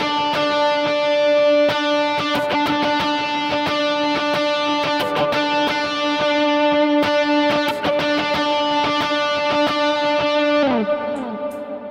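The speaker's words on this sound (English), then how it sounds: "when I play that rhythmic pattern on just one note, it still sounds cool" An electric guitar with distortion and chorus effects plays a rhythmic worship-style pattern on a single repeated note, steady picked strokes ringing loud and alone before a final slide down and fade.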